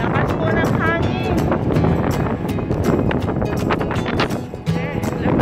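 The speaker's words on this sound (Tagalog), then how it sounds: "Lakas po ng hangin." Strong wind buffets the microphone during an outdoor walk home from work through a garden. The gusting rush is loud and continuous, with a person talking over it.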